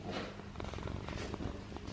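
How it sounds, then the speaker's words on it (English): A cat purring indoors: a steady, close, rumbling purr that pulses softly throughout, with faint background noise and no talking. "Oh, now he's purring."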